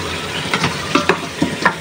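Beef and potatoes sautéing in a pan, a close, loud, steady sizzle broken by several quick stirring scrapes of a spoon.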